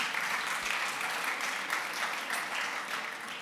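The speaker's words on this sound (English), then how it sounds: "So once again, applause for everyone who was here on the stage." Audience applause at a festival innovation stage after a round of startup pitches, steady dense clapping throughout, fairly distant and even, with no talk over it.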